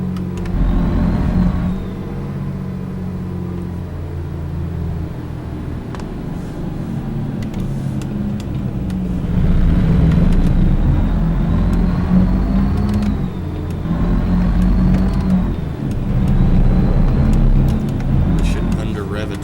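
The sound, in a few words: loud two-stroke truck engine revving in the video game American Truck Simulator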